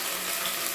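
Water splashes into a cooking pan holding onion, green chili and salt, a brief, steady broadband pour heard alone.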